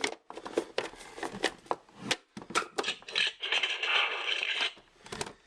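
A NECA Gears of War Lancer toy rifle has its magazine clip popped open and pulled out, giving a run of close plastic clicks, rattles and scraping, ending with a longer gritty sliding rasp.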